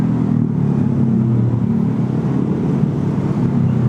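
Steady, fairly loud low rumble of engine and road noise from inside a car crawling through a traffic jam on the way to a savanna campsite, continuous throughout with no talking.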